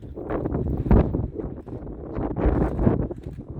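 Gusty wind buffets the microphone in loud, rumbling bursts that swell and ease without a break.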